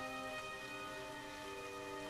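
Steady rain patters and hisses throughout, fairly even and close, with soft sustained tones underneath.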